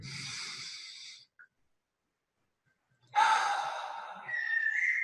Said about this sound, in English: I'm just going to take a deep breath